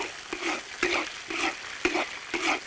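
Scallion, ginger and garlic are stir-fried in hot oil in a wok, making a close, steady sizzle broken by about five rhythmic bursts of scraping and tossing.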